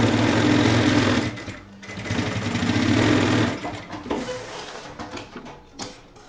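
Sewing machine stitching seams on a men's backpack, a loud rapid mechanical whir in two long bursts, then short stop-start runs of stitching that grow fainter and more broken.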